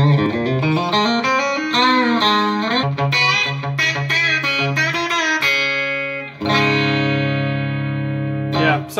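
Electric guitar with a clean country-style tone through a Valeton GP-100 multi-effects unit, playing a bright run of picked notes and held chords with light reverb, loud and close.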